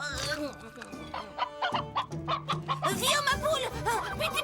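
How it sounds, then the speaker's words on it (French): A cartoon hen clucks in short, busy bursts mixed with other chicken-like vocal sounds over background music, fairly close and lively throughout. "Viens, ma poule."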